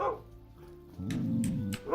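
A dog in the potion-shop game Alchemist: The Potion Monger gives a run of short, yappy barks and whimpery yips over low background noise, fairly close and of moderate loudness.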